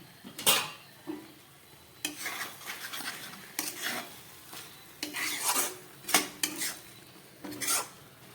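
A metal lid comes off a cooking pot of bottle gourd leaves simmered with poppy seeds, followed by a run of close clinks, taps and scraping of metal utensils against the pot, with no talk.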